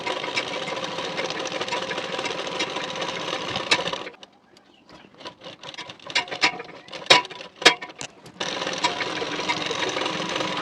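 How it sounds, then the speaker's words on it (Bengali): A sewing machine runs steadily, stitching along the edge of a blouse waistband. The close, whirring hum of a continuous run is broken by a pause filled with uneven clicks and short bursts before the steady stitching resumes. "এর কানা বরাবর করে চাপ সেলাই দিয়ে নিতে হবে"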